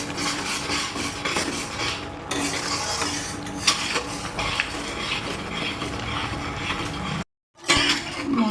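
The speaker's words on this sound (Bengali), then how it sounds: "খুব ভালো করে কষিয়ে নেব মশলাটাকে।" Spice paste with salt and turmeric is stir-fried in a pan for egg curry, with continuous loud sizzling and rapid scraping of a spatula against metal, briefly cut off near the end.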